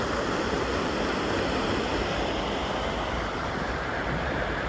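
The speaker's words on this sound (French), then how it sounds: "Ça y est, on est arrivé à la cascade en paddle." A waterfall seen from a paddle board, a continuous dense rushing and splashing of falling water, loud and steady throughout with no voices.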